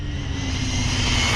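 An XLF F17 remote-control car running on a 3S battery at full throttle gives off a loud, steady, high-pitched electric motor whine that holds constant throughout a short pass.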